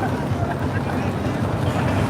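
A motor trawler departs from the Sadarghat launch terminal, its steady low engine drone and water wash continuous throughout, with wind buffeting the microphone and voices faintly in the background.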